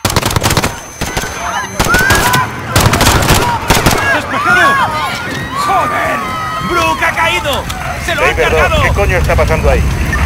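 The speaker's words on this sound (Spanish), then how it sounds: "Se han producido disparos." Gunfire and chaos in Call of Duty: Modern Warfare (2019) at Piccadilly Circus: bursts of loud, close automatic fire and sharp shots under a layer of shouting voices, continuing throughout.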